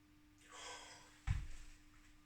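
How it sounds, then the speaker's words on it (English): A quiet, drawn-out inhale through the nose while smelling a beer's aroma, followed by a sharper, louder sniff close to the microphone. "Let's give it a whiff, see what we can sniff."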